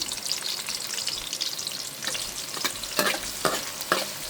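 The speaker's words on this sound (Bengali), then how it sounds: "পেঁয়াজটা দিয়ে দিলাম" Onions fry in a pan with a dense, continuous sizzle close by, and a few louder crackling bursts near the end as they are stirred.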